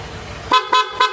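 Three short, loud honks from the horn of a Zontes 400M motorcycle, evenly spaced and close by, each a bright blaring toot with silence between.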